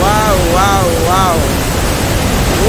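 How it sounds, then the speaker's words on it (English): A waterfall in Switzerland roars as a dense, constant wash of falling water while nearby voices exclaim over it in the first seconds. "That's the waterfall."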